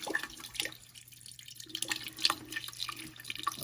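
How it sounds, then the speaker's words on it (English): Water poured into the condensate drain of a recently serviced HVAC unit trickles and drips in small irregular splashes, close and fairly quiet, with a short lull partway through and no talk. "we're going to pour some water in here so you can see where it goes."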